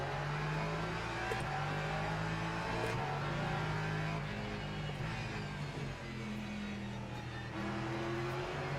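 A Porsche race car engine holding full throttle in a racing video game, a steady, sustained drone with shifting tonal whine, fairly faint and continuous, with no talk.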